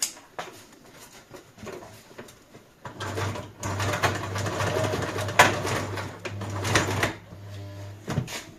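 A sewing machine stitches at close range, a fast, steady mechanical whir with a low hum that starts after a few seconds of quiet rustling and runs for about five seconds before stopping.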